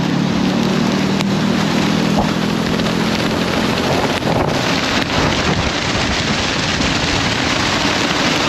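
Rain and wind rush steadily past a NIU MQi GT Evo electric scooter being ridden through a light shower, a loud continuous broadband hiss with buffeting wind noise throughout and no talk.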